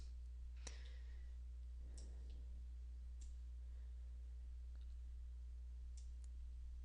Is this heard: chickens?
no